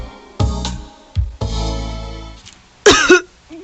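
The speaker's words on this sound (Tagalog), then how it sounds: "Nay, taod-taod naman ang imong ubo, uy." A person coughs in a few harsh bursts with pauses between them, close and loud, in a domestic drama scene with no talk heard.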